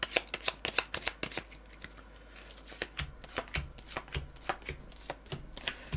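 Tarot cards shuffled and drawn close up, a run of crisp riffling flicks and slaps in quick irregular bursts with brief pauses.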